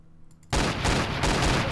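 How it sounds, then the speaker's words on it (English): Rapid, loud gunfire from a gun in the Roblox video game bursts in suddenly after a quiet moment and continues as a dense, sustained volley. "Let me bring out my gun."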